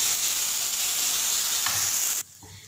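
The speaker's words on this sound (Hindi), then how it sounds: "इनको अच्छे से मसाले को भून लेना है आप लोगों ने।" Masala spices frying in a pan for an egg curry make a steady, loud sizzling hiss that cuts off abruptly near the end, leaving a quieter background.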